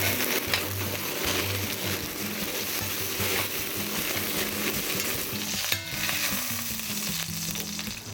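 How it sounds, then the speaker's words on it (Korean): Beef short ribs (galbi) sear in a hot pan, giving a loud, dense, steady sizzle and crackle that runs throughout, close up and without any voices. "갈비를 갈색이 나도록 잘 구웠거든요"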